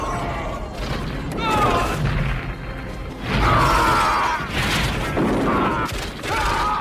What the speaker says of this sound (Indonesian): Dan terjadilah baku tembak. Dan pada saat itu pula bom yang mereka pasang sebelumnya meledak membombardir kamp itu.